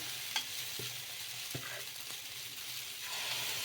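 Small dosas of batter fry on a hot pan over a high flame. A steady, close sizzle is broken by a few light taps, and the hiss grows slightly louder toward the end. No one speaks.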